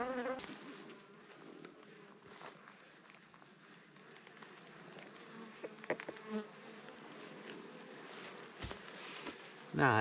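Honey bees buzz around an open hive on a warm day, a steady insect hum close by with individual bees whining past, and a few faint knocks and rustles.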